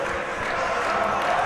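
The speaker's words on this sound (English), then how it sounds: "Crowd getting back into it here a little bit at Blake Arena" Basketball crowd at Blake Arena during a game against Vassar, a steady wash of cheering and murmuring spectators filling the gym, loud and continuous with no clear breaks.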